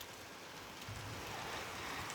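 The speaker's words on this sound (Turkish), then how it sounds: "Kayseri'ye sonunda yağmur yağdı" Steady rain falls in Kayseri, Turkey, in a soft, even hiss, quiet and continuous throughout.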